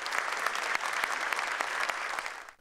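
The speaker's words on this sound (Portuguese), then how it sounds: "a plateia aplaudiu de pé" An audience on its feet claps in a standing ovation, a dense, even roar of applause from many hands heard at a moderate distance that fades slightly at the end.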